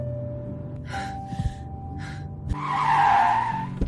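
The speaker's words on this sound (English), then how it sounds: "The car pulled over." A car pulls over to the roadside and stops. A low engine hum runs throughout, then tires skid and squeal briefly toward the end. Short breathy gasps sound earlier.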